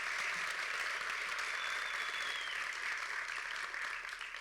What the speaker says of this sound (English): Everyone here, let's give them a round of applause.